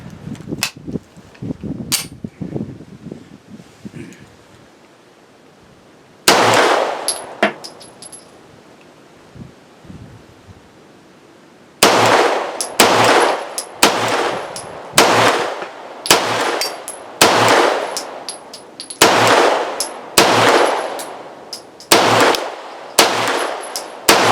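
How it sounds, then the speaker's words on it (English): A Rock Island Derya Melik 9mm pistol, a Beretta clone with a 17-round magazine, fires a few scattered shots and then a rapid string of sharp, loud reports, each with a brief ringing tail. "But it's a Beretta clone. It comes with one 17-round magazine. So let's see how it shoots."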